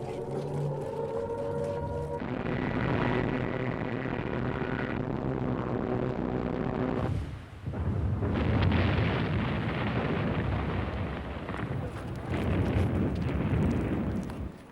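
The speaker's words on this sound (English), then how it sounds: "In early 1941, the Luftwaffe bombed Malta." Wartime bombing explosions over Malta as the Luftwaffe attacked in early 1941, heard as sustained loud rumbling blasts and roaring bursts, with a brief lull midway before the heavy booming resumes.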